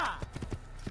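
Horse hoofbeats in Assassin's Creed as the player rides across open terrain, a quick run of clip-clop impacts at close range with a faint voice partly over them.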